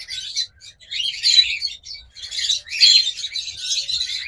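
A deep-coloured opaline pair of pet lovebirds or cockatiels chirps close by in repeated bursts of sharp, busy tweets and squawks with short pauses between them.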